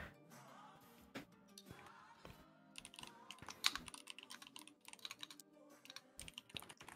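Typing on a computer keyboard, a close, irregular patter of key clicks with brief pauses and a few louder strikes, with no talking.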